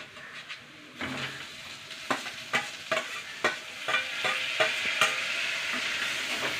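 Tomatoes fried with green chillies in a pan for an egg curry, with steady sizzling and repeated scraping stirs of a spoon against the pan, close and loud with no talking.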